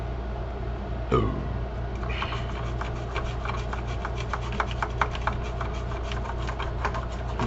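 A brush scrubs sticky, dried roach residue off an Xbox One circuit board, making close, rhythmic rubbing and scratching strokes over a steady low background hum.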